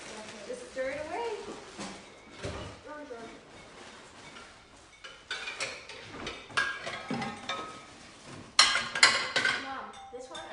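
A child stirs eggs in a pan in a home kitchen, light scraping and clinking of a utensil against cookware, irregular and fairly quiet, with adults and children talking over it.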